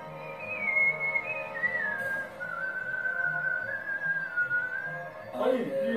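Whistling of the tune Arirang by a Korean whistling performer wearing a Halloween mask, a clear, sliding melody held for several seconds, close and steady, ending as a brief voice cuts in.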